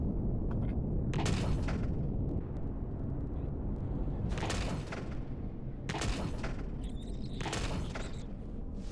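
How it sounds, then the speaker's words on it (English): Sci-fi gunfire and blasts in a battle in Empyrion Galactic Survival: several loud, sharp bursts at irregular intervals over a constant rumbling engine-like drone, with no talking. "He's trying to shoot us."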